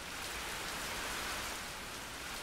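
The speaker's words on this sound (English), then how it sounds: "Amidst the rain and crickets and frogs" Steady rain falling outdoors: a dense, even hiss of drops with no distinct crickets or frogs standing out above it.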